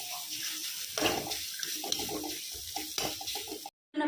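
Ginger and garlic fry in a pan with a soft continuous sizzle and scattered light stirring clicks, fairly quiet and close, cutting off abruptly near the end.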